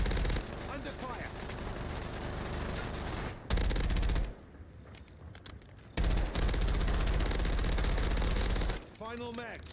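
Automatic gunfire in the Black Ops Royale video game, loud sustained bursts that drop out briefly twice, broken by sharper explosive hits near the end.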